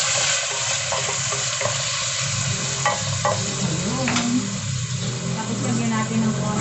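Garlic sizzles and crackles in a hot pan while being stirred, a steady frying hiss with scraping clatters from the utensil, and a person talks throughout over the cooking.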